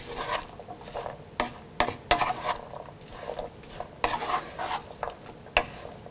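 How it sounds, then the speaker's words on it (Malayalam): Masala being stirred into an asparagus stir fry in a pan, with repeated scraping strokes and soft clinks of a spoon against the vessel, close and moderately loud with no talking. "മസാല ആസ്പരാഗസിൽ നന്നായിട്ട് കോട്ട് ചെയ്യുന്നത് വരെ മിക്സ് ചെയ്യണം."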